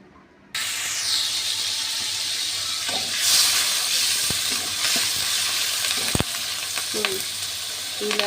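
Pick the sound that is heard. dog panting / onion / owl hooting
onion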